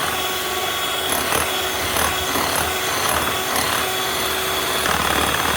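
An electric beater whirs steadily and close up as it whips egg whites with sugar for Tuticorin macaroons, a continuous high mechanical drone with faint rhythmic scraping against the bowl.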